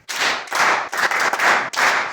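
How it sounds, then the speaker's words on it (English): A classroom of secondary-school physics students claps for a classmate in short, loud bursts of dense clapping separated by brief gaps, close and alone. "Please clap for him."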